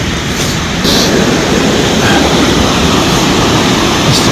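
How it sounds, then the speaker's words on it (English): A river rushes loudly and steadily nearby, a dense continuous roar of flowing water with no voices over it. "I hear some rushing water."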